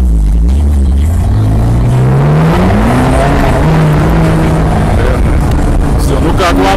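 A Ferrari California revs hard and accelerates on a Paris street, its loud engine note climbing steadily in pitch up close, with tire and road noise underneath.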